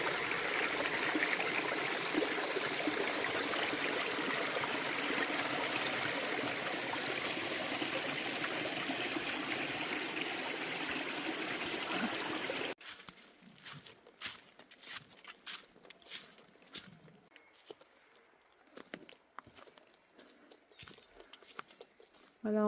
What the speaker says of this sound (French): C'est de l'eau qui va descendre dans la cascade qu'on est allé voir juste avant.